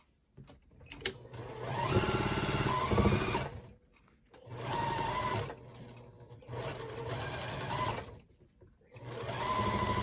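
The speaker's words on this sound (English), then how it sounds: "And we're going to sew this together, starting right here." A sewing machine stitches a patchwork quilt block, running in three steady bursts of whirring with short pauses between, close and fairly loud.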